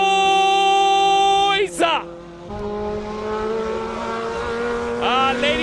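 A single-seater classic race car roars past at a Cape Town classic car event, its loud harmonic engine note sustained, then briefly breaking as it passes and shifts before building again nearby.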